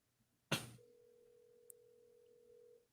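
A telephone rings on a speakerphone call: a loud crackling burst opens the line, then a single steady electronic ring tone holds for about two seconds before cutting off.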